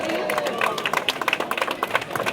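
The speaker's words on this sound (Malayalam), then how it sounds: "നല്ലൊരു കയ്യടി അവർക്ക് വേണ്ടിയിട്ട് കൊടുക്കാം." An audience claps for swimmers at a swimming club event. The applause is scattered and uneven, with dense overlapping claps and crowd murmur throughout.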